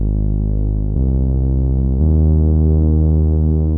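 Three sustained synthetic bass tones from a Nord Drum 3P, each a steady loud drone stepping to a new pitch about once a second, with no voices.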